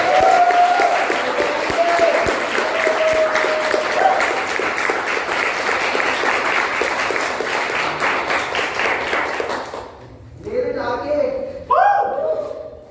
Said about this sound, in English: Can we have a huge round of applause for our next contestant?